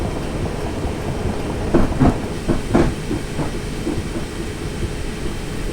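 Simulated train from Train Simulator 2018 pulling away on a Guildford to London Waterloo route: a steady low rumble and hiss with a few louder clunks and clacks near the start, continuous throughout, no talking.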